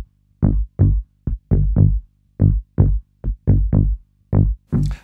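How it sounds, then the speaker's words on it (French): A direct-line electric bass run through two specific effects pedals gives a synth-like tone. About a dozen short, loud, distinct notes play in a choppy rhythm against silence, with no talking. "qui sonne pas vraiment basse électrique classique"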